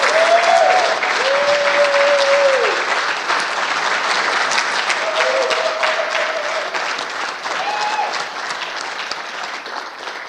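A banquet audience applauds Kathleen at a community awards event, a long unbroken roll of many hands clapping, loud and full, with a few sustained tones and faint cheers riding on top before it slowly eases.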